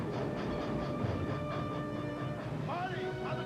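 An old steam train from Back to the Future Part III runs with a continuous rumbling clatter at moderate distance, a rising tonal squeal near the end, and a voice faintly underneath.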